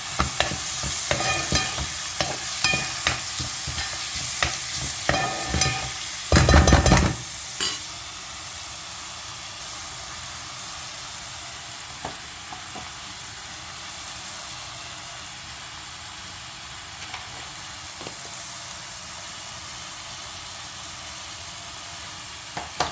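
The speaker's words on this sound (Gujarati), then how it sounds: "ફટાફટ બટેકા ડુંગળીનો મસાલો બનાવી દઉં" A potato and onion masala for dosa fries in a pan with a steady low sizzle, punctuated early by rapid scraping stirs and a brief loud burst of hissing, then settling into a quieter continuous fry.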